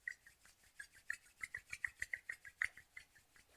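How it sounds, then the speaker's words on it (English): Palms rubbing together gently during a qigong exercise, a faint, soft rhythmic swishing of about a dozen quick strokes, heard up close with no talking. "And gently rubbing the palms together."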